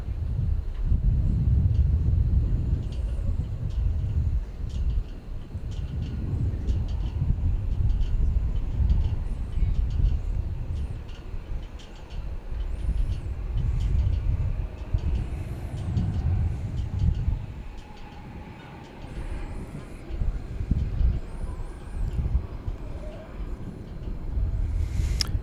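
American Airlines jet taking off from runway 18 Left at DFW at night, a broad, sustained low roar of jet engines that rises and swells over the whole stretch, steady and fairly near.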